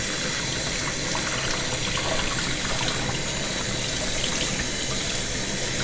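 Tap water pours steadily into a sink over a doll's hair, a loud, continuous splashing gush with no break and no talking.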